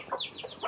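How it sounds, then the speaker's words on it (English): Hens and roosters from a small flock of eleven hens and two cocks kept for eggs and brooding, clucking in a few quick overlapping calls over a short moment at moderate distance. "There was 11 hens and 2 cocks."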